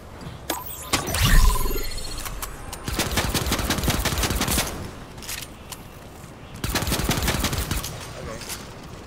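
Rapid pistol shots in Fortnite crack out in quick clusters, loud and close, following an earlier sweeping whoosh, with someone talking over the gameplay.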